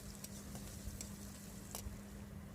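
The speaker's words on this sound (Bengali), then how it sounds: "একটু নাড়াচাড়া করে ভেজে নিব।" Onions stirred and frying in oil in a wok with garlic, cumin and a few grains of rice, giving off a faint, steady sizzle with soft scraping and patter, with no talking.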